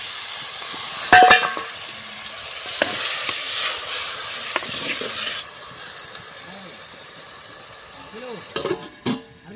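Lentils and two chillies stir-fried in a pan in an outdoor tribal kitchen, giving a steady hiss of frying with scraping stirs and a few sharper clinks, fading quieter midway with scattered knocks near the end.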